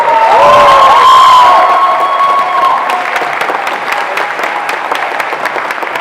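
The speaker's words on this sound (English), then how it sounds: "Give yourselves a huge round of applause." A loud crowd at a high school senior assembly erupts in cheers and whoops that fade into sustained, dense clapping, the applause continuing steadily after the shouting dies down.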